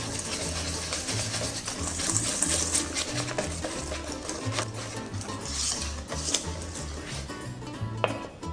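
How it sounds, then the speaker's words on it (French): Eggs being whisked into flour for crepe batter in a bowl, a steady close rasping and scraping of a whisk or spoon against the bowl with faint clinks, continuous and fairly quiet. "On ajoute les œufs brièvement battus et on va mélanger en incorporant la farine petit à petit"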